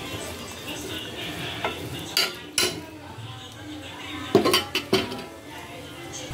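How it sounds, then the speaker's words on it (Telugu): Chopped onions and green chillies frying in a pan for egg fry, with a faint sizzle under sharp clinks of a spatula scraping and tapping the metal, in bursts over several seconds. "ఇప్పుడు దీనిలో ఇందాక కట్ చేసుకున్న ఉల్లిపాయలు అలాగే పచ్చిమిర్చి వేసుకుందాం. వీటిని బాగా ఫ్రై చేసుకోవాలి."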